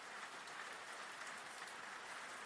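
Steady, dense rain falls throughout as a continuous hiss of drops, even and fairly close, serving as a background sound effect within a narrated story.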